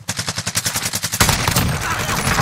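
Enemy gunfire in Call of Duty Warzone: a steady burst of rapid automatic shots for over a second, then a dense, louder roar of continuous firing and battle noise, close and without talk.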